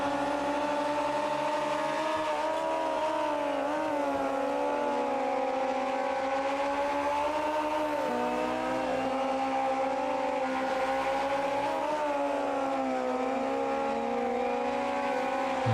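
Race car engine in the Automobilista 2 racing game, held at high revs with steady harmonic whine that rises and dips through gear changes and corners, continuous and loud throughout with no talk.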